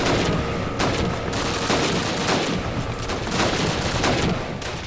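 Sustained gunfire in the World War II shooter Call of Duty: United Offensive: rapid, dense volleys of shots and bursts, loud and continuous throughout with no pauses, and no voices.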